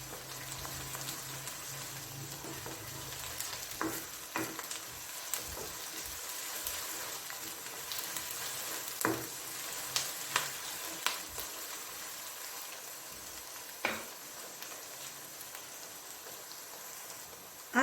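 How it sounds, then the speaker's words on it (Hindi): Chopped ginger and garlic frying in a pan, a soft continuous sizzle with occasional sharper crackles and pops, steady and somewhat quiet throughout. "अब इसमें डालूंगी अदरक लहसुन चॉप किया हुआ, और इसको भी थोड़ा सा मैंने कुक करना है।"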